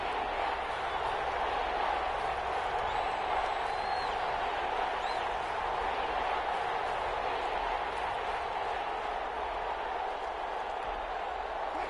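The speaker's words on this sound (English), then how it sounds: "the crowd getting into it as we come up on a big 3rd down" Stadium crowd noise from the Madden 21 football video game, a steady, dense roar of cheering fans building ahead of a big third down, continuous and fairly even throughout without distinct peaks.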